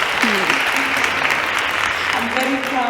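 Audience applause at a STEM careers event, steady loud clapping throughout, with a voice speaking over it.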